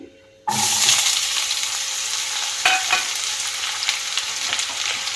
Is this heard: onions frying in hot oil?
yes